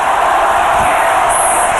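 Applause sound effect: a brief, dense burst of crowd clapping and cheering, loud and continuous throughout.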